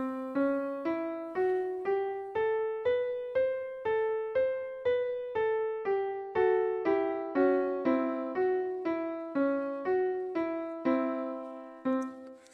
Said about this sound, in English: we have the new heptatonic parallel do re mi 2 scale, which sounds like this